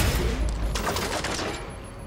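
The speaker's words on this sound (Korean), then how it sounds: "지금 아래층에서 머신건 올라오는데" Rapid machine gun fire in The Division 2, a dense continuous burst of shots with a fast rattling rhythm, loud and close throughout, fading slightly toward the end.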